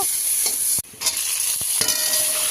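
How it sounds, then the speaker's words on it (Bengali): Pumpkin stems, potato, onion and tomato fry in a hot pan, giving a close, steady sizzle broken by a few sharp clacks of a spoon stirring the pan, with no voices. "ডাঁটা, আলু, পেঁয়াজ, টমেটো দিয়ে তরছি।"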